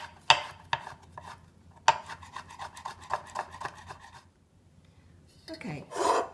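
A knife slicing orange peel thinly on a board for marmalade, giving quick, crisp rhythmic cuts in a steady run that stop, followed by a short rustle of handling.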